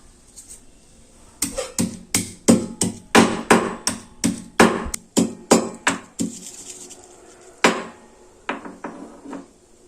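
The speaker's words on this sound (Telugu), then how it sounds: "జీలకర్ర, ఆవాలు, జీలకర్ర, ఎల్లిపాయలు దంచుకుందాము" Garlic cloves pounded by hand in a home kitchen, a run of about fifteen sharp, evenly spaced thuds followed by a few scattered blows, close and fairly loud with no talking.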